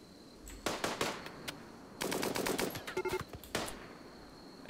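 Gunfire during a raid in the video game Rimworld: rapid bursts of automatic shots rattle in several clusters separated by short pauses, crisp and fairly close, with no voices.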